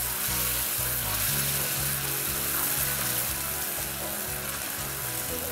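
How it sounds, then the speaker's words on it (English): Demi-glace with vegetables simmering in a pan, a dense steady sizzle and bubbling that runs close and even through the whole clip, with no talk over it. "we're gonna add that in along with the vegetables, and you can kind of hear that simmer"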